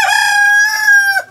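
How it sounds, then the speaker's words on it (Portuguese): A rooster crows once at the foot of the São Benedito mountains in Ceará, a single loud, close, sustained call that falls off sharply at the end. "Galo cantando"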